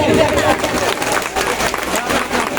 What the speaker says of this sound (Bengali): করতালি চাই